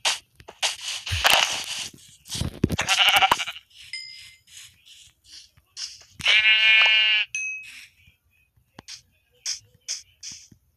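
Several Minecraft sheep bleats, clear and close, with short electronic chimes and blips between them.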